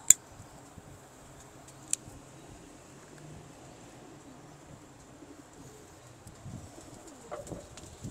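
Soft, low pigeon coos from a loft of wild and domestic pigeons, faint and intermittent over a quiet background hum, with a couple of sharp clicks near the start.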